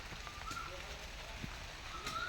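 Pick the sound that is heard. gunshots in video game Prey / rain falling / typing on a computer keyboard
rain falling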